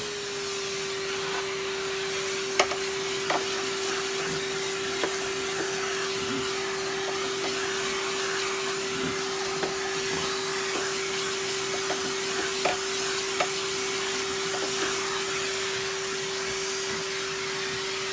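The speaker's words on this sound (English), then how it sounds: "Let me just vacuum out this little bit." A vacuum cleaner runs steadily with a strong tonal whine, sucking debris out of a Hoover part from an Electrolux 347 Hoovermaster set, with a few small clicks and knocks from the nozzle along the way.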